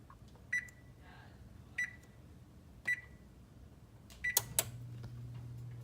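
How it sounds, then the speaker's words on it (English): An oven control panel beeps during preheating for chocolate chip cookies, with three short evenly spaced beeps followed by a quick burst of tones, each one clear against a quiet kitchen background. "First step is you're going to want to preheat the oven"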